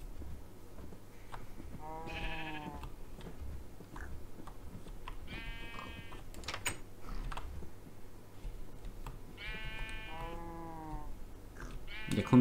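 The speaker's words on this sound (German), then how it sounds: "Weideschafe da, ja." Sheep bleating in the Minecraft video game, several short wavering synthetic baas spaced a few seconds apart over a background of keyboard clicks and faint game ambience.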